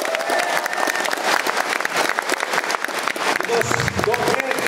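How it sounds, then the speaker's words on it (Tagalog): Employees at a company gathering give their chairman loud, vigorous applause, thick continuous clapping with some crowd noise, close and energetic to the end. "deserve ng ating chairman, Dr. Ed Cabantog, ang pinakamalakas na palakpak"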